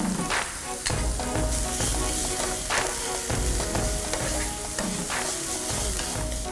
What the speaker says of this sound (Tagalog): Sunod na magigisa ng sibuyas at bawang.